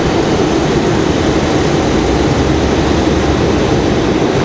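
A Delta Airbus A321 jet taxis for departure at Raleigh-Durham airport, giving a loud, steady engine roar and broadband rumble that holds constant throughout, with no talk.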